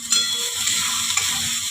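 A spice paste with turmeric and salt fries loudly in a pan for lote fish paturi, a dense, continuous hiss with a few sharper crackles over a couple of seconds.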